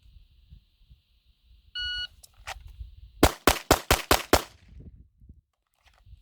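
Glock pistol fires a rapid string of about six sharp, loud shots over a chronograph, preceded by a short electronic beep and faint handling noises.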